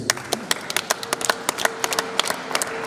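Guests at a wedding clap their hands in approval, a scattered run of sharp individual claps at moderate distance with irregular rhythm and faint murmuring voices beneath.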